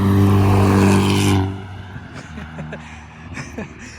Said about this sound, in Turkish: Bu arada güzel bir araba geliyor ya. Yani daha doğrusu sesi geliyor.